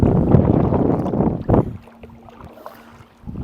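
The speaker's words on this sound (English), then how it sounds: "This wind is strong" Strong wind buffets the microphone while paddling a kayak, a loud rushing roar for the first moments that drops to a quieter background with soft splashes and knocks.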